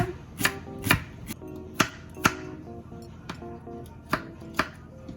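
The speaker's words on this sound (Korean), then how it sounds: "파 마늘도 적당하게 잘라주세요" A knife chops green onions and garlic on a cutting board in a home kitchen, with about a dozen crisp, fairly close strokes in an uneven rhythm and no voices.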